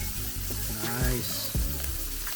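Lumpia egg rolls sizzle steadily in hot oil in a pan, a constant crackling fry with a few clinks and shuffles as they are moved, and a voice briefly heard in the background.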